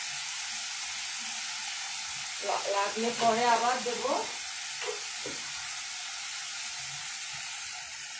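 Chicken fries with garlic and salt in a pan for a chicken and vegetable dish, giving a constant sizzling hiss with a brief spoken remark over it.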